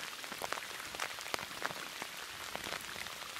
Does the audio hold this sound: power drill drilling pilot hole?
no